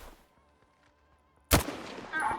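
A single sharp rifle shot in a video game comparing 7.62×54 and 5.45×39 calibers in Dnipro on Master mode bursts loud at mid-clip after quiet game ambience, followed by a decaying tail and ringing noise.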